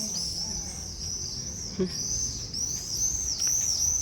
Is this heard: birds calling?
yes